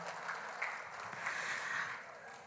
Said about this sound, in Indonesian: Tepuk tangan untuk NTB.